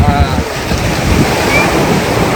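Steady roar of sea surf at Udupi with wind rushing across the microphone, continuous and fairly loud, with no clear breaks between waves.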